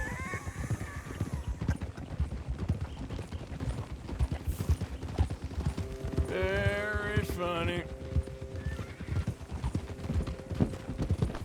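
Horse hooves clip-clopping in the game Red Dead Redemption 2, a steady close trotting rhythm throughout, with a whinny midway and characters talking over it.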